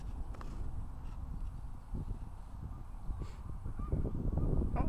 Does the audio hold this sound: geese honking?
yes